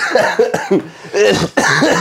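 Someone coughs several times in a row, harsh and close, with short throat-clearing bursts in between.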